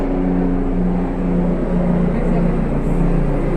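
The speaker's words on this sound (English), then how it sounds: "helicopter passing and we're recording and outside" A helicopter passes over an outdoor spot, heard as a steady, dense rumble with a low hum that holds at an even level throughout, with no distinct rotor beats standing out.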